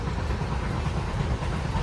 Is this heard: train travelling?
yes